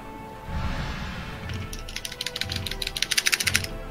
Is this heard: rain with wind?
no